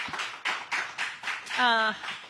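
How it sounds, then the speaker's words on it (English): Scattered, evenly spaced claps from an audience at a live general election results event, faint and thin, with a voice briefly speaking over them near the end. "let's give her a round of applause"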